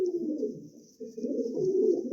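Pigeons in a loft cooing, low throaty coos close by, with a brief dip before the cooing resumes.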